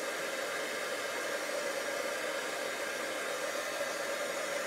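Heat gun blowing on watercolor paper to dry it, a loud, steady whooshing roar of hot air that holds constant throughout, with no talk.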